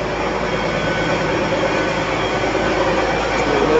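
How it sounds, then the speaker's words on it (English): A train at Edgemead station, giving off a continuous, fairly loud, even rumble and hiss that runs unbroken throughout. "There's the thing, train."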